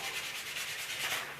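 Sandpaper rubs against a wooden pen blank spinning on a lathe, a steady close hiss of fine-grit sanding that holds even throughout with no pauses.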